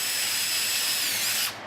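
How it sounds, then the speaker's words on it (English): A power drill whines at high speed boring a pilot hole in wood, a steady loud grinding hiss that cuts off abruptly at the end. "Do a pilot hole so it doesn't split the wood"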